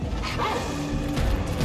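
A dog enemy in Warhammer 40,000: Darktide barks and yelps in a short burst amid chaotic combat noise, fairly close and moderately loud.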